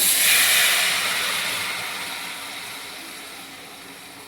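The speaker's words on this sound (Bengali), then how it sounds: "এবার আমি একটু অল্প করে জল দিই" Water poured into vermicelli fried in ghee gives a loud burst of hissing steam up close, which slowly fades over a few seconds.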